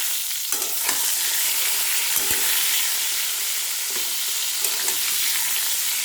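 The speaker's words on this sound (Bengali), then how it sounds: "আগে বেগুনটা ভেজে নিই" Brinjal slices frying in a pan for a light Bengali meal, a steady bright sizzle filling the clip with a few soft clicks of a spatula, fairly close and with no talking.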